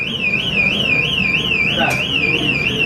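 A store alarm wails in a continuous warbling tone inside a used and vintage collectibles shop, loud and steady throughout with a brief click near the end, while someone talks over it.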